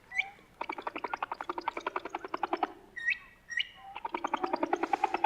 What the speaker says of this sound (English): That's actually the whale song at its regular speed. And now here it is sped up.